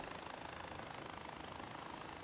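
A small helicopter in the video game Far Cry 4 gives off a steady, dense rotor and engine drone that stays even and loud throughout the short stretch, with no voices.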